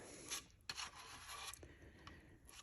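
An old plastic gift card rasps and scrapes across a drum shell as finish is spread on and wiped off, giving quiet, close, dry scraping strokes in an irregular rhythm with no talk.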